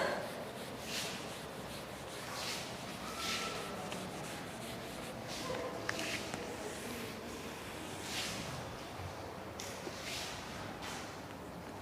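Faint, continuous scratchy rubbing as writing is erased in a classroom setting, with repeated soft strokes rising and falling every second or so, quiet and close.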